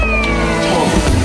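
A small stray orange kitten, picked up by a child, meows close by in a short, insistent cry with a brief high whine.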